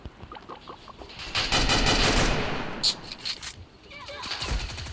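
Gunfire from an MP5 in the Free Fire mobile game, a dense loud burst of automatic shots lasting a couple of seconds, with scattered lighter shots and game effects before and after.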